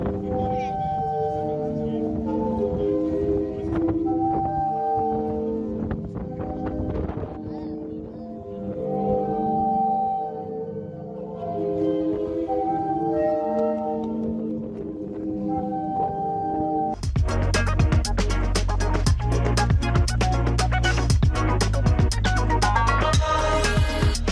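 The Zadar sea organ in Croatia, played by waves through holes in the steps: deep, sustained organ-like tones rise and swell in overlapping chords, with a louder, denser surge of layered pipe notes in the final stretch.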